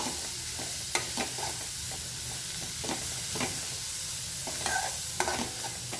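Shredded cabbage for Kerala sadya-style thoran sizzles over high flame in a pan, with a continuous hiss and intermittent scraping knocks from the stirring utensil.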